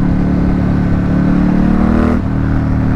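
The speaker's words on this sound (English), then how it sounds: "Keep an eye on the revs, people." Ducati X Diavel S motorcycle engine revving hard under acceleration, a loud, close, steady drone with the pitch climbing until a brief dip near the end, then carrying on.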